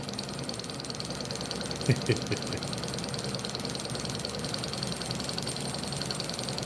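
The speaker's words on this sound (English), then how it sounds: "But the motor runs, which is a good sign." A small model Stirling engine motor runs with a steady mechanical whir and faint rubbing against a gear, with a couple of brief knocks near two seconds.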